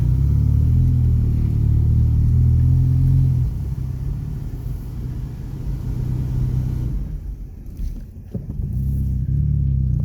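Car engine running under load on a test drive after a fuse was replaced, a loud steady low rumble with slight rises in revs, a brief dip near the end as it falters, then building again; no talk.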